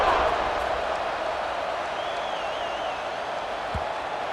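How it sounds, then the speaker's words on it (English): A stadium crowd in the EA Sports College Football 26 video game hums with a loud, steady roar just after a score and extra point, with a faint whistle-like tone rising briefly through the middle. "this crowd is buzzing after that last score"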